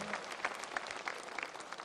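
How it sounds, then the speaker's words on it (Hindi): Crowd applause welcoming Union Minister Anurag Singh Thakur on a state visit, a fairly faint, even patter of many hands clapping with a few sharper claps standing out. "आइए तालियों के गुड़गड़ाहट साथ"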